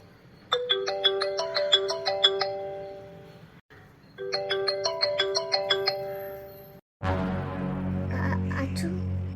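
A mobile phone rings loudly with a bright repeating melodic ringtone, stopping briefly and starting again before a different, denser tone takes over near the end.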